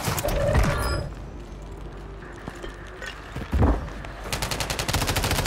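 Rapid bursts of automatic rifle fire from an MTZ 556 or MP5 in Call of Duty Warzone Resurgence, firing in several volleys with a loud burst near the end and no speech.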